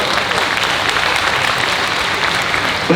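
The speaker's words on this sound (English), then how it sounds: "Round of applause." Audience applause fills a hall at a fan convention Q&A, a dense steady clapping that stays loud and continuous throughout, with no speech over it.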